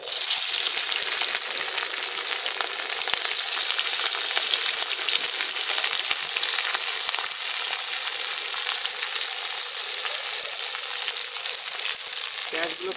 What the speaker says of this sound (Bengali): এই তেলটার মধ্যে এবার প্রথমে পেঁয়াজগুলোকে দিয়ে দেবো।